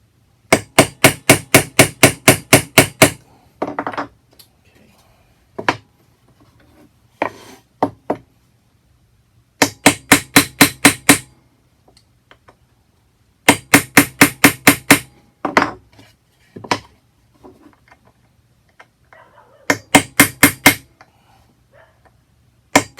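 A hammer drives nails into a wooden tool tray in quick bursts of sharp, loud strikes, each run of about six to eight blows separated by pauses and a few lighter taps.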